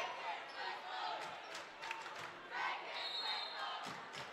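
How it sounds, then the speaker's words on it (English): A crowd chants in a packed gym during a high school AAAAAA regional championship basketball game between Evans and Lakeside, a loud, continuous roar of voices that swells and dips without pause. "Crowd now chanting, take his whistle."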